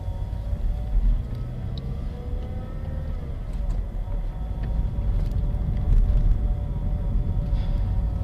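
A Vauxhall Astra pulls out of a park and ride, its engine and road noise forming a steady, dense low rumble heard from inside the car. The sound swells slightly as it gets under way, with no talking.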